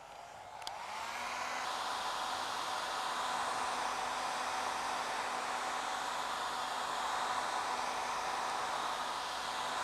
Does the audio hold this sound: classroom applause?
no